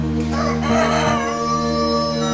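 A rooster crows once near a rural hut, loud and close, a drawn-out cock-a-doodle-doo with harmonic tone over faint background.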